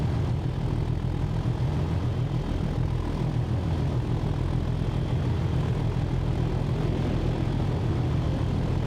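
A Class 37 diesel locomotive idling in Train Sim World 5, hauling a double-headed cement train: a constant, loud low engine drone and throb that holds steady throughout, with no voices.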